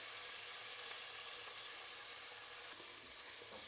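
Steady, loud sizzling hiss of tamarind water boiling in a pot for fish curry, with a faint bubbling texture underneath and no voices.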